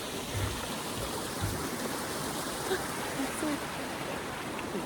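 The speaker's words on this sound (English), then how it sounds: "You can hear it though. The water coming down, it's lovely." Water rushes steadily down a stream on Dartmoor, a dense, close broadband wash that fills the whole stretch without a break.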